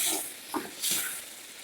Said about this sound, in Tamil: பாருங்கள், நல்லெண்ணெயிலேயே நல்லா வதங்குது பாருங்கள்